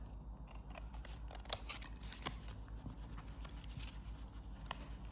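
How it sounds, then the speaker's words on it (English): Scissors trim paper for a tiered wiper card with flower accents, making a quick, rhythmic series of close, crisp snips and paper rustles with no talking. "I'm gonna trim this to the top."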